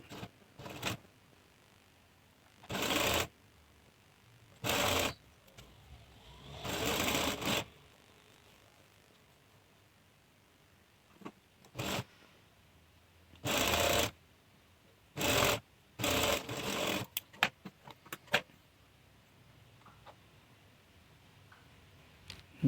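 A sewing machine stitches the bottom hem of a chudithar pant in short, loud bursts separated by quiet pauses, with quicker runs near the end and no talking.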